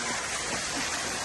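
Constant rushing splash of a waterfall feature in a tiger enclosure at a Singapore zoo, a dense, close, unbroken wash of falling water.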